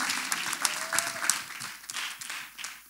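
A church congregation clapping during a testimony service, with individual hand claps audible as a loose, uneven patter at moderate loudness that gradually thins toward the end.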